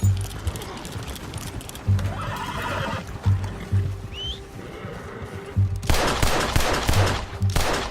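Red Dead Redemption 2 gunfight with rapid bursts of close, loud gunshots mixed with a horse whinnying and hooves clopping, all over a steady game soundtrack.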